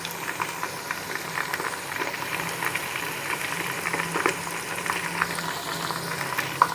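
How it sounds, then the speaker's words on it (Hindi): Onions fry in a pan, giving a steady close sizzle with dense crackling and bubbling that continues evenly throughout, with no voices. "दो मिनट में प्याज फ्राई हो गए हैं और गोल्डन कलर भी आ गया है।"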